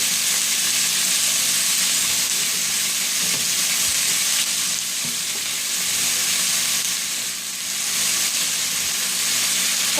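Thin milanesa beef fries on a hot surface, giving a steady, loud, close sizzle and hiss that holds unbroken for the whole stretch with only slight dips in intensity.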